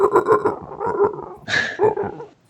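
A person imitates a monster's growl with the voice: a rough, rumbling vocal growl in several pulses, rising into a harsher, higher-pitched snarl midway before dropping back down, close and loud.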